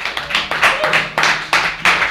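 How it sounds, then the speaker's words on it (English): A few people clapping close by to introduce performer Daniel Scott, sparse uneven claps in a quick irregular rhythm, loud and near, with no crowd roar behind. "I'll introduce a big round of applause for Daniel Scott."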